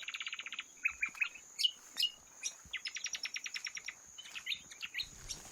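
Mac-Mac bird song: bursts of rapid repeated chirps and short trills in a quick stuttering rhythm, fairly close and clear, with a steady high insect-like whine running underneath throughout.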